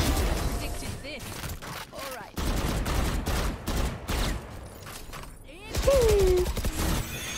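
Gunfire from the video game Valorant rattles in repeated loud bursts, separated by short pauses, with a rising tone near the end and game voices mixed in.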